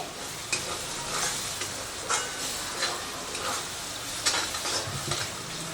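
Masala spice paste frying in oil for restaurant-style chole, a steady close sizzle and crackle with occasional stirring scrapes throughout.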